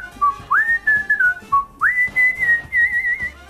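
A single person whistles a tune, bright and cheerful, close and clear, with short sliding notes in two phrases and no talking.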